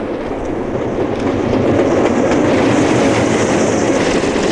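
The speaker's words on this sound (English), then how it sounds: "There goes an eastbound freight over Starucca Viaduct." An eastbound freight train crosses the Starucca Viaduct, a loud, continuous rumble of rolling cars and wheel clatter that swells after the first second and stays heavy throughout.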